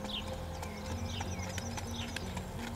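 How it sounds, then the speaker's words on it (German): Rapid, even hoofbeats of a young piebald mare tölting on an oval track clip-clop over a steady background hum, with faint bird chirps mixed in. "dieser bildschönen und talentierten Scheckstute, die gerade angeritten wurde und ihre ersten Tölt-Schritte macht"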